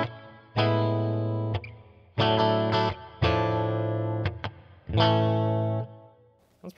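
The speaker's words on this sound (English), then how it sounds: "Plate Reverb." Electric guitar through a plate reverb in the JST ToneForge Jeff Loomis plugin: several sustained chords struck in separate bursts, each ringing with a smooth, bright plate tail and brief gaps between them, loud and alone.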